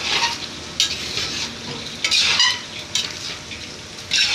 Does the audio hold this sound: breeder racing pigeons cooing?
no